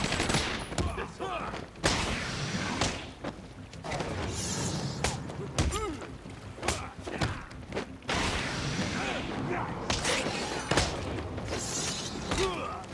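Bursts of video game gunfire and impacts crackle in rapid, irregular volleys with shattering and thuds, moderately loud, with occasional talking over the action.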